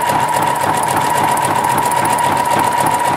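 Sewing machine running steadily at high speed, zigzag stitching two strands of clothesline together for a trivet, a loud continuous close-up whir and needle chatter with no pauses.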